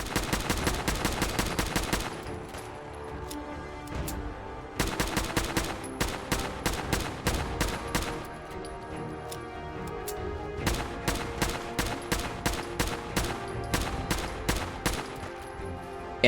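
Rapid bursts of automatic gunfire in the video game Fallout 4, close and loud, come in dense volleys with brief pauses between them and no talking.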